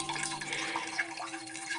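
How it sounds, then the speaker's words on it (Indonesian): Water dripping quickly from a bathroom sink faucet left slightly open, a brief close run of rapid drips and trickles over a faint steady hum. "Air menetes cukup deras hingga terdengar sampai ruang depan"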